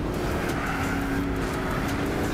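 Race cars roar around a Gran Turismo 6 circuit in a steady, dense engine drone, several cars close together at high revs with no let-up and no voices.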